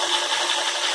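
A Parkside PSBM 750 B3 impact drill runs at low speed, a steady broadband whirring hiss with faint low knocks, continuous and close throughout.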